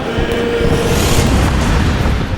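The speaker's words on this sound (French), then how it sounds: "Alors que le duel d'artillerie s'éternise" Artillery cannon fire in a recreated Battle of Valmy scene, a dense, continuous rumble of booming blasts that stays loud throughout with no clear gaps between shots.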